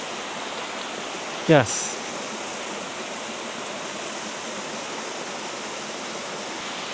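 Steady, full roar of a waterfall in a tropical forest, loud and continuous like rushing broadband water noise, with a brief short spoken word cutting in near the start.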